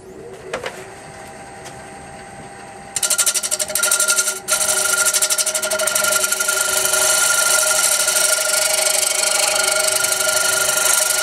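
A wood lathe spins up after a few seconds of quieter background, its high, dense whirring whine running steady and loud for the rest of the stretch, no voices over it.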